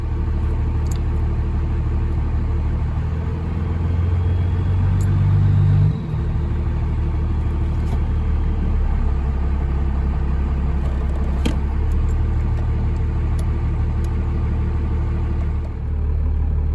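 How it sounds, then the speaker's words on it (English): A truck with a 12-valve engine on a test drive after an oil pressure sensor repair, its steady low engine rumble and road noise running continuously and close, with a brief dip midway and no talking. "now I'm ready to test drive it and see if it worked"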